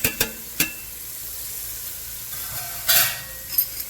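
About two teaspoons of chopped garlic sizzling in a pan for a Sunday dinner, giving a soft continuous fry with a few sharp scraping stirs and a louder hiss near the end.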